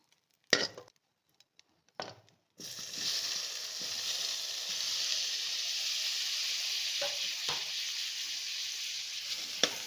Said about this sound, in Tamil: தக்காளி நல்லா மசிகிற அளவுக்கு நல்லா வதக்கிக்கலாம்.